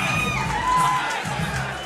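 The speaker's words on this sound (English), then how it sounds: "The crowd are going crazy" A fight crowd at a Muay Thai bout roars and cheers continuously, with shouts and whoops rising over a dense wash of noise and a commentator's voice mixed in.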